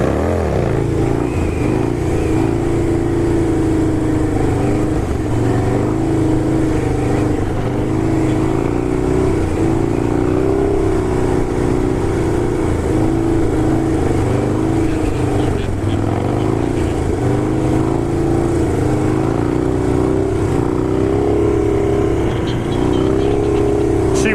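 Harley-Davidson motorcycle engine held up in a wheelie, a loud, continuous low rumble that swells and dips with small throttle changes, close and unbroken throughout.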